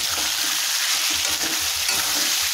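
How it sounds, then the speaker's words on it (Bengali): Mutton stirring and sautéing in a pan, a steady bright sizzle with a rhythmic scraping of the spoon moving the meat, close and continuous. "তো বেশ খানিকক্ষণ ধরে আমি মাটনটা দিয়ে কষছি।"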